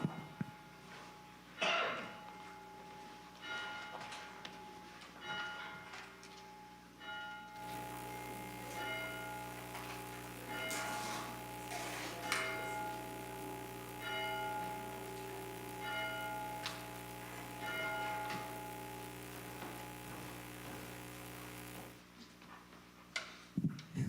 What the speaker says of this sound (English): We begin our service with the ringing of the bell and the lighting of the Christ candle.